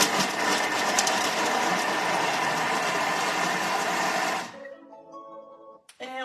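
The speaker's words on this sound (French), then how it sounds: "on va venir hacher les oignons" Onions being chopped in a food processor: a loud, steady whirring motor drone runs for about four seconds, then cuts off abruptly, followed by a short fading ring and a final clack.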